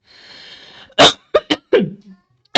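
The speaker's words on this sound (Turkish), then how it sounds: "Öksürük tuttu pardon." Someone coughs in a series of harsh, close bursts, four quick ones and then another after a short pause.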